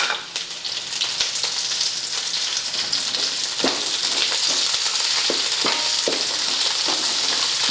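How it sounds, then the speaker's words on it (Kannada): Curry leaves, about a cup, roasting and spluttering in hot oil for a homemade masala spice powder, a steady dense sizzle with sharp crackling pops scattered through it, close and continuous with no voices. "ಇದು ಕರಿಬೇವು ಎಣ್ಣೆ ಹಾಕಿದ ತಕ್ಷಣ ಸಿಡಿ ಸಾಧ್ಯತೆ ಇರ್ತೈತೆ"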